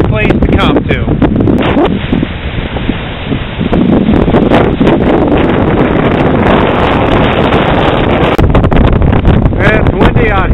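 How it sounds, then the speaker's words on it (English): Strong wind buffets the microphone on a sandy beach at about 20 miles an hour, a loud continuous roar with gusty surges, while a person talks through it. "It's windy out here."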